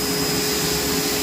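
Bissell Bark Bath pet vacuum running steadily as it pulls dog hair off a rug, a loud continuous whirring motor drone with a high whine, close and alone with no talking.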